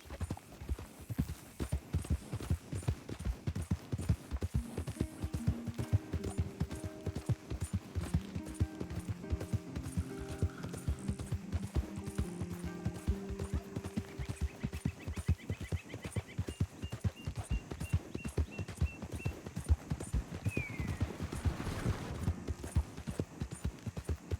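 A horse gallops in Red Dead Redemption 2, its rapid hoof clip-clops pounding steadily and close throughout, with faint game music and ambience underneath.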